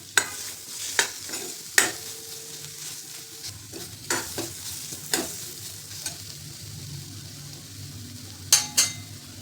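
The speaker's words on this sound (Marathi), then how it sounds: "ह्याला छान परतून घ्यायचे 2-3 मिनिट, म्हणजे खोबऱ्याचा मिरचीचा कच्चेपणा कमी होईपर्यंत" Coconut and chili paste sautéed in a pan: a soft sizzle under repeated spoon scrapes and clinks against the metal, close, with sharper knocks near the end and no speech.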